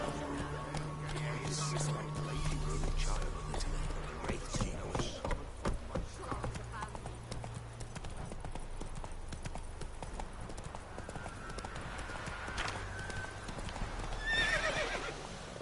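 The horse Roach galloping in The Witcher 3, rhythmic hoofbeats clip-clopping steadily with a whinny, game ambience around it and a brief spoken line.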